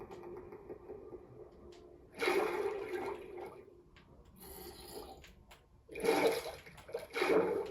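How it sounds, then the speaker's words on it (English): A pit of water in Minecraft gives a sloshing, swirling water sound in uneven bursts that rise and fall over several seconds, alone, without talking. "This random ass fucking pit of water,"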